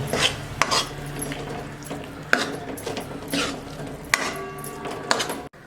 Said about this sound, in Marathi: आता एक वाटी दही घालू याला चांगलं मिक्स करून घेऊ